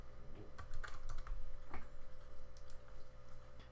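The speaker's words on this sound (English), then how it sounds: "so we type in the admin password." Keys tapped on a computer keyboard while an admin password is entered during Avaya AS5300 server configuration, a quick irregular run of light clicks, fairly close and quiet over a low steady hum.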